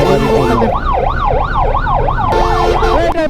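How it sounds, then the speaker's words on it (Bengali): An ambulance siren wails loudly and close by in heavy traffic near a flyover, its rising and falling tone repeating steadily over engine noise. "পিছনে আমার দুটো অ্যাম্বুলেন্স সামনে আরো দুটো অ্যাম্বুলেন্স"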